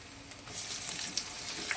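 Cumin and mustard seeds hit hot oil for a dosa potato bhaji, a soft hiss rising after a quiet start into a steady close sizzle with a few faint pops.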